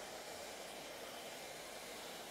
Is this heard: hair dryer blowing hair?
yes